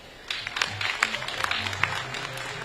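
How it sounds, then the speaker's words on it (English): Applause from a crowd at the Kampala University graduation ceremony, a steady patter of many hands clapping in a large space, moderately loud with a low murmur beneath. "Clap for the chancellor."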